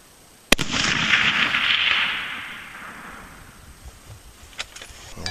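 A single sharp rifle shot fired at a target outdoors, a loud crack followed by a long rolling echo that fades over several seconds, with faint handling noises afterward.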